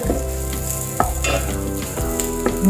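Sliced mushrooms fry on a low flame as a spoon stirs them in the pan, a soft continuous sizzle broken by a few sharp scraping knocks of the utensil against the pan, with no voices.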